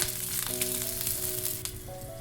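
Curry leaves frying in hot oil until crisp, a steady close sizzle and crackle throughout with faint ringing tones from the pan, no voices.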